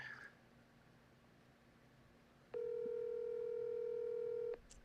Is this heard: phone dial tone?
yes